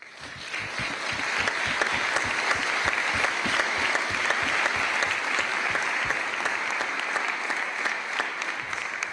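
Steady, dense applause from a live audience at a commemorative event honoring memory survivors, continuous and loud throughout with sharp individual claps audible and no talking.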